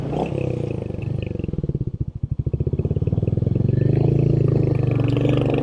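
A stock Royal Enfield Hunter 350 motorcycle runs close by, its single-cylinder engine thumping in a steady pulsing beat that dips briefly, then swells into a louder, fuller roar as it pulls away.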